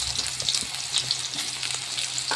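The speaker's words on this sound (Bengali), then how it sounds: "এখানে আমার দিদি মায়ের জন্য রান্না করছে" Offerings for Kali Puja fry in hot oil in a home kitchen, giving a close, steady sizzle with soft crackles and occasional stirring clinks, and no one speaking.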